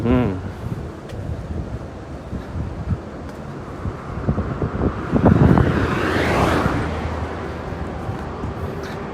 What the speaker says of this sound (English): The guy is so much trouble biking against the wind.